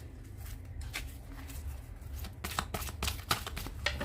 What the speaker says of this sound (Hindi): चलिए अब आपके लिए लास्ट में 2 कार्ड्स ब्लेसिंग से लूँगी